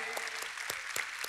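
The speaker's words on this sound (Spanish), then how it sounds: "Un fuerte aplauso a nuestro Señor" A church congregation applauds, with a short burst of scattered, separate hand claps heard at moderate distance.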